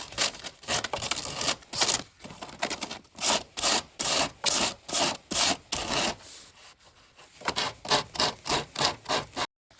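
Rhythmic back-and-forth strokes of 80 grit sandpaper on an oak coffee table, each loud scratchy pass evenly spaced, with a brief pause midway before the strokes resume, no voices.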